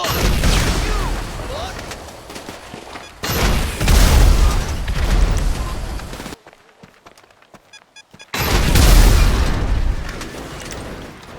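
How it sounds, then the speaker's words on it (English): A homing launcher fires and its rockets explode in GTA Online while hippie delivery vans are destroyed: two heavy booming blasts with rumbling tails, separated by a quiet pause, then a third loud blast. "Homing launcher it is."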